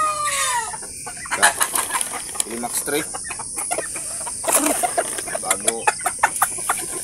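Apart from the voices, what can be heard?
chickens clucking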